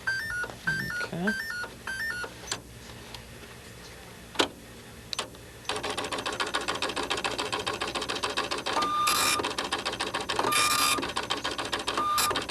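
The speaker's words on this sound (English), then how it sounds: "We have a working printer." A newly assembled printer, switched on for the first time, gives a few beeps and clicks, then its mechanism runs with a steady rapid ticking chatter, close and loud, with a brief voice early on.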